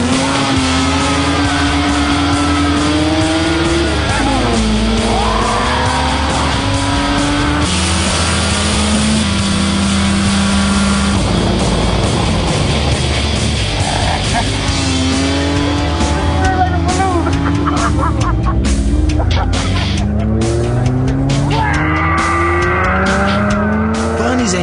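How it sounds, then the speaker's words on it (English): Tuned car engine rated at 300 brake horsepower, roaring and revving through a countryside road test, with rising and falling pitch sweeps, some tire squeal, and a voice talking over it. "engine is roaring like a tiger"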